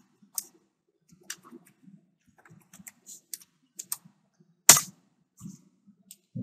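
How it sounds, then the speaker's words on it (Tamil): Computer keyboard keys tapped one at a time while entering a password during a Windows Server Core 2008 installation, a sparse, irregular series of quiet, crisp clicks with one louder keystroke near the end. "எஸ் பாஸ்வேர்ட் டைப் பண்ணுறோம்."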